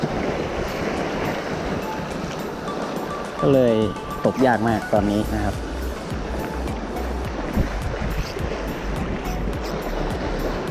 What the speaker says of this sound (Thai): ตอนนี้ก็ประสบกับปัญหานะครับขึ้นลมนะครับ หนักมาก